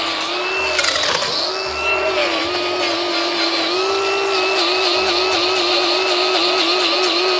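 An angle grinder trimming a cow's diseased, rotting hoof on a farm, a loud continuous high whine that wavers in pitch as the disc bites and eases, close by, with no talking.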